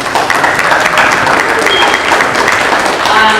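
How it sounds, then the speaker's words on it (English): A burst of crowd applause at an end-of-year banquet, loud and sustained clapping from many hands for a few seconds. "give him a round of applause"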